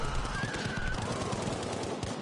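Bullets traded in a competitive shooter match, with a steady stream of rapid gunshots and automatic fire, moderately loud and continuous across a couple of seconds, with faint voice underneath.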